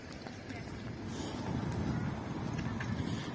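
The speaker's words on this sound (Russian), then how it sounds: "Вот здесь дует по этому проходу" Wind blows through a passage by the sea on a sunny November day in Turkey. It makes a steady, faint, rushing broadband noise that swells slightly, with buffeting on the microphone.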